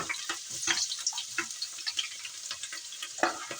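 Chopped onion hitting hot oil in a pan, a steady bright sizzle with small crackles and pops, close and moderately loud, no voices.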